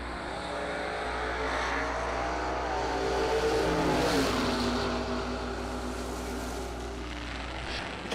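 A G-Body Malibu drag racing car on the left side of the racetrack, its engine building into a loud sustained roar at a distance and then fading, with no talk.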